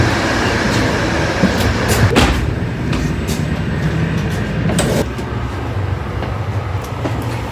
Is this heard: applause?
no